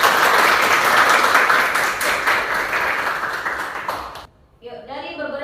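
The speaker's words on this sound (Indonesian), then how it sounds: "Ya, tepuk tangan." Classroom students break into loud, dense applause that holds for about four seconds, then cuts off abruptly before a brief tonal ping and quiet voices.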